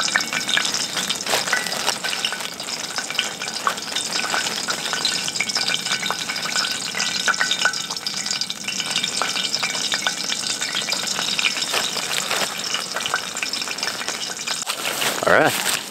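Walleye fillets fry in oil on a stove inside an ice-fishing shack, giving a steady close sizzle and crackle with faint scraping throughout and a brief louder rustle near the end.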